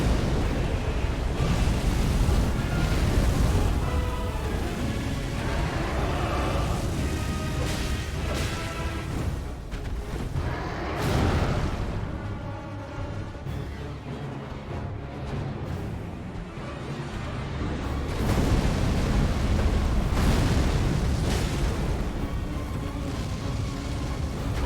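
Fiery explosions from a boss's fire attack in Elden Ring, a sustained series of heavy booming blasts and roaring eruptions that swell and fade over about twenty-five seconds, loud throughout with no clear gaps.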